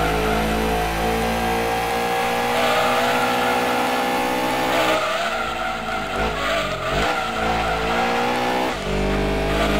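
A Lancia Stratos racing car engine in Gran Turismo 2 screams at high revs, pitch climbing and dropping through gear shifts, with tires squealing as it corners, loud and continuous.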